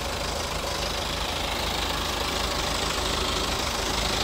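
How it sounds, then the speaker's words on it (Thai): A black 2014 BMW 320d Sport Line with its Twin Power Turbo diesel engine idles at a steady, even clatter, close and moderately loud, with no voices over it. "ตอนนี้ผมจงใจเปิดเครื่องให้ดูนะครับใครบอกว่าเครื่องดีเซลเสียงดังมันเสียงดังประมาณนึงแต่ไม่ได้ดังมากนะครับ"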